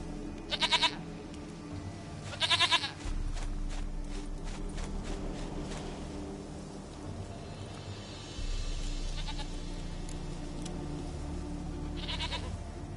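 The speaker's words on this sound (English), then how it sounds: "Goat of mine, dearest, sweetest goat." A goat in The Witcher 3 video game bleats in a couple of short, loud bursts, with a third later, over a steady rural ambient bed with occasional clicking.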